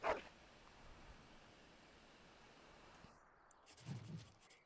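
A Mabari war dog in Dragon Age gives a short bark at the start and a low growling woof near the end, both faint against quiet game ambience.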